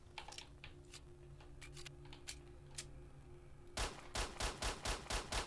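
Gunfire in S.T.A.L.K.E.R.: Shadow of Chernobyl: scattered single shots and clicks at first, then a loud, rhythmic burst of about half a dozen rapid automatic shots near the end.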